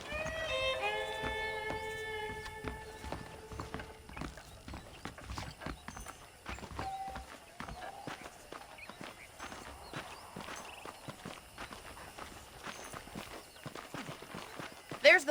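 Horse hooves clip-clop in a steady walking rhythm in the video game Red Dead Redemption, with a horse's whinny early on and faint ambient sounds in the background.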